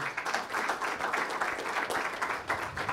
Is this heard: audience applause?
yes